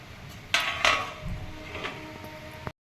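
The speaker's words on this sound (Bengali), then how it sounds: "এবারে আমি এটাকে চাপা দিয়ে দিচ্ছি" A lid clanks down onto a pot of vegetarian white pulao rice, two sharp metallic clatters close together, then a softer knock and light rattling before sudden silence.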